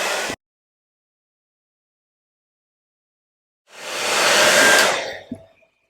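A hair dryer blowing on a watercolour painting: a brief click, a pause, then a loud steady roar for about a second and a half that cuts off with a clack.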